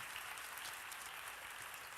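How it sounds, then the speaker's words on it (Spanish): A church congregation applauds in a continuous wash of clapping, quiet and diffuse, as though heard from across a large hall. "Denle un aplauso al Señor."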